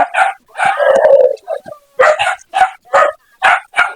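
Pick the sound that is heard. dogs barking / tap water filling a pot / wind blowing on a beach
dogs barking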